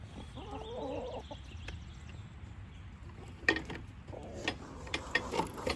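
A backyard flock of chickens, including a white Brahma hen, clucks softly and faintly, with scattered clucks and scratching noises growing busier toward the end.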